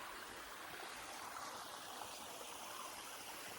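A forest stream on a trek along the Kerala–Tamil Nadu border flows and splashes in a steady, continuous rush, fairly quiet and alone with no voices.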